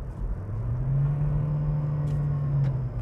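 Nissan Versa with CVT engine braking in low gear through a curve, a steady low engine drone with a faintly rising whine under road rumble, heard from inside the car.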